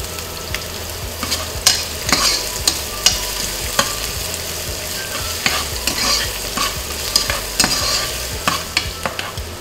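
Onion sautéing in a pan for pork binagoongan, a steady close sizzle broken by frequent sharp scrapes and clacks of a spatula stirring, with no talk.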